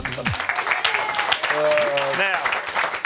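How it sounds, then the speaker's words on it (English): A crowd at an Australian football match roars and applauds continuously, a broad wash of cheering from a large stadium, with a voice and shouts standing out briefly in the middle. "Listen to the crowd."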